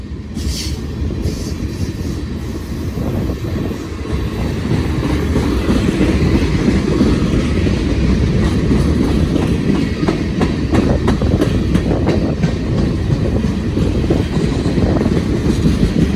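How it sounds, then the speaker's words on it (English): A long freight train of ethanol tank cars rolls past on street-running track in Iowa, a steady dense rumble with wheel clatter and faint flange squeal that holds loud and close throughout, no voices. "This is a long train."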